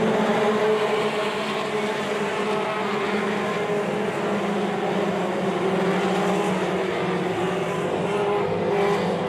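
Dirt track race cars roar around the oval at Southern Ontario Motor Speedway, a dense, continuous engine drone from several cars at once, loud and steady at a moderate distance.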